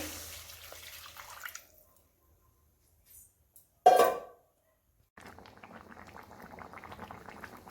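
Water goes into a pan of tamarind rohu fish curry in one brief, loud splash midway, between stretches of quiet and a soft bubbling simmer afterward.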